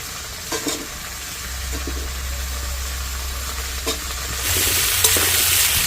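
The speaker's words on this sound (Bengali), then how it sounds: "ফুলকপি আর কুমড়ো হালকা করে ভেজে নিয়েছি" Cauliflower and pumpkin sizzle steadily in a hot pan, with a few scraping stirs, the frying growing louder and brighter toward the end.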